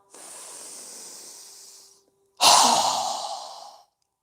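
A deep breath during a yoga breathing exercise: a long, soft airy inhale followed by a louder, forceful exhale through the nose, close and alone.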